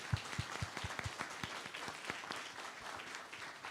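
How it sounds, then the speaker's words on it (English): An audience applauds faculty at a college event, a steady wash of many hands clapping with a few sharper close claps at the start, fairly faint and distant-sounding, settling into a continuous patter. "I want you to give a big round of applause to our faculty."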